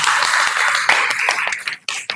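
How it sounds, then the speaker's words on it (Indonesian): A class audience at an Indonesian university lecture claps hands in a brief, dense round of applause that thins into scattered individual claps before stopping. "Tepuk tangan dulu"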